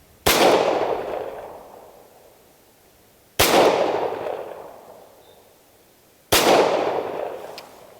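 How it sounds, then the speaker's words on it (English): A SAR USA P8 pistol fires three loud, sharp shots a few seconds apart on an outdoor range. Each shot rings out and fades slowly. "we've taken a couple shots with the pistol"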